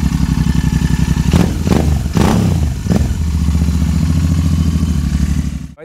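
A heavily modified Royal Enfield Continental GT 650 twin engine revs loud and close while stationary, deep bassy exhaust rising in several sharp blips over a steady throbbing idle before cutting off abruptly.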